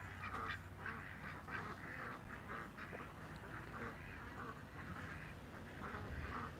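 Several ducks quack repeatedly and overlapping beside a pool, a busy chattering chorus outdoors at moderate volume with steady background noise.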